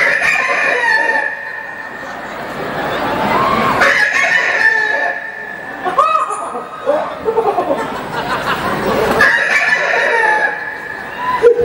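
A person's voice imitates a rooster's morning crow in a loud, drawn-out call. It repeats several times amid chatter and laughter close to the microphone.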